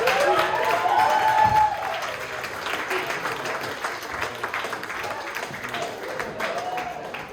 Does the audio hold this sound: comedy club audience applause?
yes